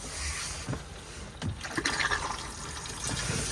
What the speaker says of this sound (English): And then flush after use